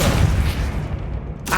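Depulso spell cast in the Hogwarts Legacy game, a heavy booming blast that fades over about a second, then a short bright burst at the end.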